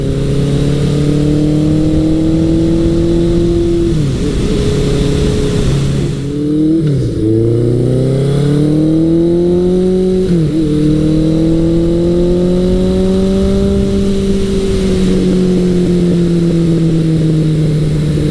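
A 1983 Suzuki GS1100L motorcycle fitted with a Delkevic exhaust pulls hard through the gears, its loud, close engine note rising steadily, dropping at a shift around the middle, then climbing again, with no talking.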